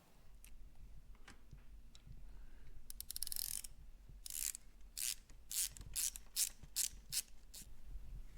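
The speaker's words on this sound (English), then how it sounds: "I got a deep well 12 millimeter on an extension, and that's what I'm going to use to actually turn it in there" Ratchet turning a deep well 12 mm socket on an extension during motorcycle cooling system work: a quick burst of clicks, then a series of separate loud ratcheting strokes, close up and alone.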